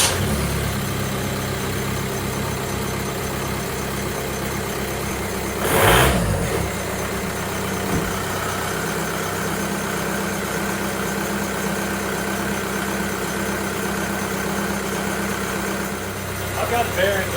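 A swapped-in VW TDI diesel engine with a newly installed resonator cranks and catches with a brief burst, then settles into a steady rumbling idle that continues throughout.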